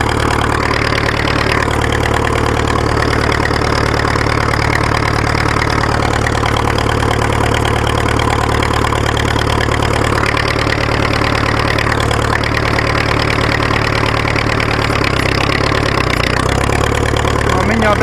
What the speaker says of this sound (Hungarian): Nem akarom a motort pörgetni nagyon.